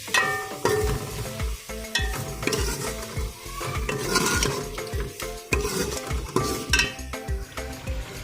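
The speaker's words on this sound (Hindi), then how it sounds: "इसको अच्छे से फ्राई करते हैं यहाँ तक कि टमाटर हमारे सॉफ्ट हो जाए" Chopped tomatoes and green chillies fry in a pan, a steady close sizzle broken by repeated scraping stirs and the clatter of a spoon against the pan's sides.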